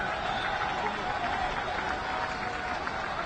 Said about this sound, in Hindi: हम सब तालियों की गड़गड़ाहट से माननीय मुख्यमंत्री जी का